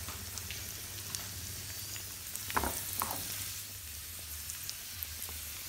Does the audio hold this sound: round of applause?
no